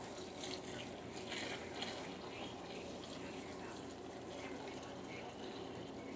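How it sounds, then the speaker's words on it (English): Heated homebrewing mash water pours and splashes steadily into a strainer, a continuous rushing wash of liquid at close range. "I'm actually going to put some of my mash water in here"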